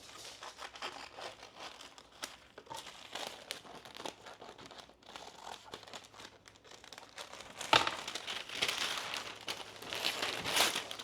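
Scissors cut Airheads candy along the fold, giving faint, close crinkling and soft snipping of wrapper and candy that continues unevenly and grows slightly louder toward the end.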